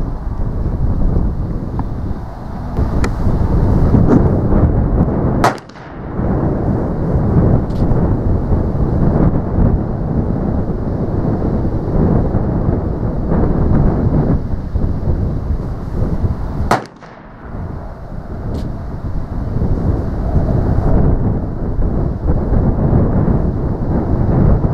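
Strong wind buffets the microphone outdoors at a shooting session with a Rogers and Spencer .44 revolver, a loud, continuous low roar with gusting swells and two brief dips where it momentarily drops away.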